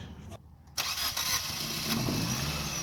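A white Nissan Versa's engine cranks briefly and catches, then settles into a steady idle close by, with a faint voice in the background.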